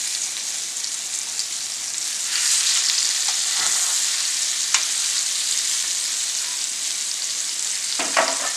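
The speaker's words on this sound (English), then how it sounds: "So I'm just lightly dredging them with flour, and we're ready to go. Okay, so let's put our pork chops in." Flour-dredged pork chops frying in a pan, producing a loud, dense, even sizzle that holds steady throughout with a couple of faint clicks and no speech.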